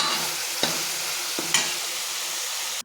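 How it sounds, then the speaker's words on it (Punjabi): Spice paste roasting in a kadhai for stuffed bitter gourd, a steady close sizzle with two sharp spoon knocks against the pan partway through, ending abruptly. "ਆਪਾਂ ਇਹ ਪੇਸਟ ਆਪਣਾ ਭੁੰਨੀ ਜਾਂਦਾ ਪਹਿਲਾਂ ਪਹਿਲਾਂ ਇਹਨੂੰ ਭੁੰਨਾਂਗੇ"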